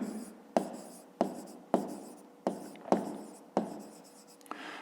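Pen or pencil scratches on paper during a fifth-grade maths exercise, written by hand in a rhythmic series of about seven short strokes, each a sharp onset that fades, close and quiet.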